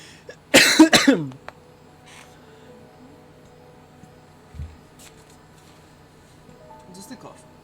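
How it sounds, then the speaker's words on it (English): A player in a game session coughs in a short burst of a few loud, close hacks that fade into a faint choked catch, with quiet background sound afterward. "Just a cough."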